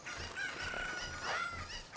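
Cuccos in The Legend of Zelda: Ocarina of Time cluck and squawk over constant game music, with a rising squawk near the end, moderately loud and close.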